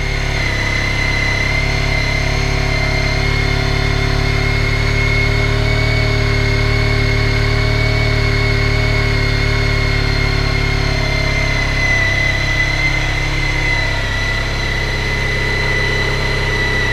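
A Honda ST1300 motorcycle with stock exhaust idles steadily at a high, even pitch of about 2000 RPM while still cold, loud and close, with a constant droning hum throughout.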